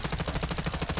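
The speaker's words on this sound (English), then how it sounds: "I'm covering suppressive fire!" A rapid, evenly spaced burst of automatic gunfire fills a moment of video-game combat, loud and close, with about a dozen sharp shots in quick succession and no talking.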